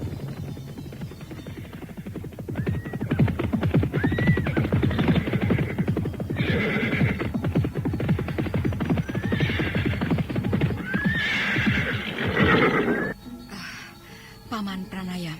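Horses neigh and whinny repeatedly over a dense, steady clatter of a riding party moving through the night, with someone speaking over the sounds and the hoofbeats easing off near the end.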